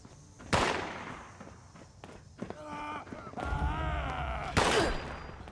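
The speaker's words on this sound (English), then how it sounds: "The grenade did not really work that well" In Fallout 76, two sharp, loud grenade blasts go off a few seconds apart, with footsteps and a voice talking in the gaps between them.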